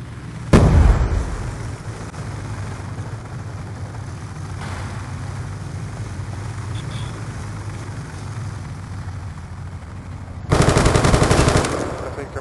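Gunfire in Call of Duty: Black Ops 2 bursts out loud near the start, followed by a steady low battlefield rumble and another dense burst of shots near the end, with no talking.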